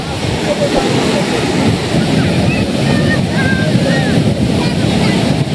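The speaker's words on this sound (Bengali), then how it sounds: "অনেকদিন পরে ওল্ড দীঘার সমুদ্রের ঢেউটা বেশ ভালোই" Sea waves roll in at Old Digha beach at high tide with many bathers nearby, a loud, continuous surf roar mixed with wind buffeting the microphone and faint distant crowd sounds.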